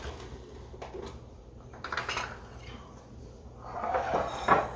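A lid and small bowls are shifted around on a kitchen counter during bread prep, producing soft clinks, knocks and scrapes spread across several seconds, fairly quiet with brief louder clatters near the end.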